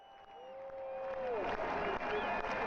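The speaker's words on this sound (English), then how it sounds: "Let's bring the crowd in here." A stadium crowd at a Dodgers versus Padres baseball game swells into cheering and applause, building steadily to a loud, sustained roar, with a tonal electronic sweep audible at the start.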